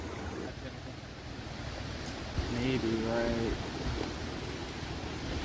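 A small wild brook trout creek flows with a soft, steady rushing hiss of water, fairly faint, while someone speaks briefly partway through.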